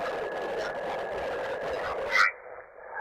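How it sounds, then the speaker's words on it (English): A ham radio receiver hissing with steady solar noise, a broad crackling static wash with a faint whine, ending in a brief chirp and a sudden drop to quiet; no voices. "And that noise is solar noise."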